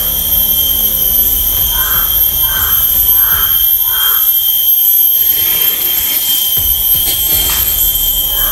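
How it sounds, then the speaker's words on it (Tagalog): Several short harsh crow caws in a row over a loud, steady roar like a jet engine, with a strong high whine throughout. "Ang ingay ng uwak."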